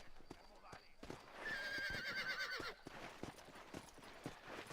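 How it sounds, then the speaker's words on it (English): Horse hooves clop steadily on the ground in the Red Dead Redemption video game while a horse lets out a long, shrill neigh midway, with faint talk underneath. "Ease on, little horse."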